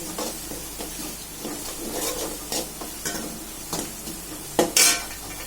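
Ginger and garlic fry in a pan with a soft, steady sizzle while a utensil stirs and scrapes through them, ahead of adding quail. A couple of sharper metallic clinks and a brief hiss come near the end.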